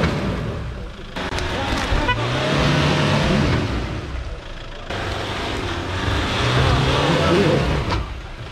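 A pickup truck engine straining off-road while towing a car, loud continuous revving and rumble rising in two surges, with people shouting over it.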